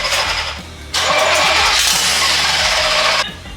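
A V8-swapped Miata with a flooded carburetor cranks and churns loudly, the engine note jumping up for a couple of seconds before dropping back, close and steady with no talk.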